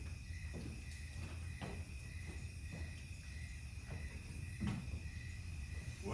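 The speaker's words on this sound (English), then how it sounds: "Tons of crickets out there." Crickets chirp steadily outside at night, a constant high-pitched trill over a low hum, with a few soft thuds or footsteps mixed in; no one speaks.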